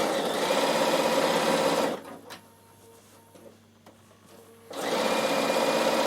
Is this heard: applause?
no